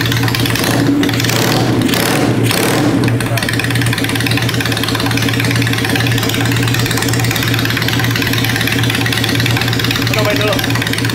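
A custom motorcycle engine idles steadily with a few sharp revs near the start, loud and close throughout.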